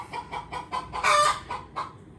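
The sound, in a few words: hen cackling noisily after laying an egg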